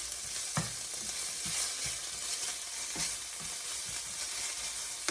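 Garlic sizzling in a hot pan with steady frying crackle and a few sharp stir-clanks of a utensil against the pan, fairly close and constant with no talking.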